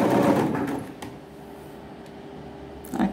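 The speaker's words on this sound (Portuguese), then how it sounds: "E vou costurando até o final, em cima da marcação do viés." A sewing machine stitches fabric bias binding along a marked line, a short loud run of motor whir followed by a quieter hum and a faint clack at the end, with no talking.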